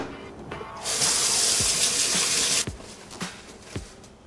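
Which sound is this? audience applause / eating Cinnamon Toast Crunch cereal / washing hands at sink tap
washing hands at sink tap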